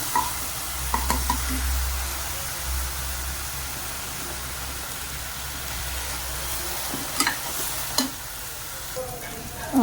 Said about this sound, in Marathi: छानपैकी कांदा पण परतून झालेले आहे